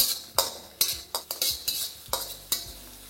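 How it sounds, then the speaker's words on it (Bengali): Chopped garlic, ginger and chilli being stirred in hot oil over a high flame, a run of sharp spatula scrapes and clinks against the pan at an uneven rhythm over a steady sizzle, close and loud with no voices. "এবার ফ্লেমটা হাই রেখে এটাকে ভালো করে মেশাতে থাকুন।"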